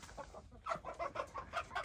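Several chickens and roosters cluck in quick, choppy bursts, close by, with no talk over them, in a village in Kocaeli, Turkey.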